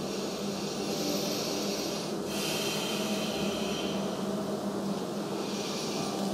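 Slow, deep breathing during a home yoga session, steady and close, with long airy inhales and exhales over a constant soft background hiss.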